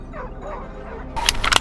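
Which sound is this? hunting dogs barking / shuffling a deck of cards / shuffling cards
hunting dogs barking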